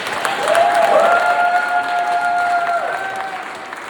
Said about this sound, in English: Can we get a round of applause for the newlyweds?